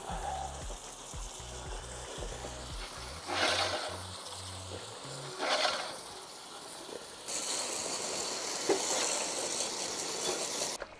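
Water washing paste and cleaning product off a cylinder mower, a continuous spraying hiss with louder gushing bursts, an engine-like rhythmic drone at the start.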